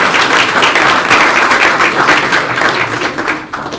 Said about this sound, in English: I suppose you need to clap 3 times.